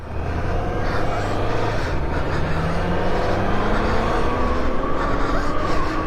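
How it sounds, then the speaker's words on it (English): BMW K1200RS, BMW S1000XR and Ducati Multistrada motorcycle engines running steadily and fairly loud together, a continuous droning rumble with shifting pitches as the bikes idle and rev nearby. "Listen at them engines there."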